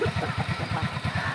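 A motorcycle engine running close by, a rapid pulsing putter with an even rhythm, loud and alone.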